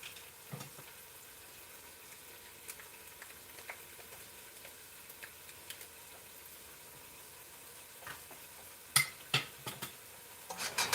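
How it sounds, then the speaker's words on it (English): A soft, steady sizzle of ground beef and garlic frying in a pot for chili, faint and continuous, with a few sharper pops and scrapes near the end. "y'all can hear that sizzling"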